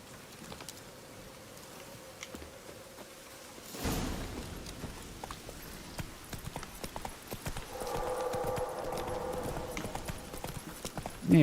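Horse hooves in The Witcher 3 clip-clop in a steady rhythm under faint insect buzzing, growing louder partway through as the horse moves, with a short shout near the end.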